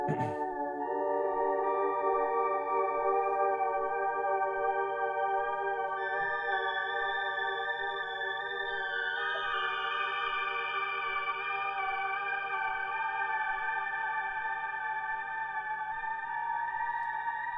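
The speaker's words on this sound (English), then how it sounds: "This is like your kind of shimmer reverb." Sustained electric guitar chord through a shimmer reverb pedal, swelling into a bright, shimmering wash with high octave-like overtones, steady and unbroken, no talking.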